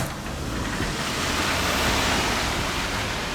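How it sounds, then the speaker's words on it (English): Heavy rain pours steadily outdoors, a dense continuous roar of broadband noise that stays loud and even throughout. "It is absolutely pouring outside."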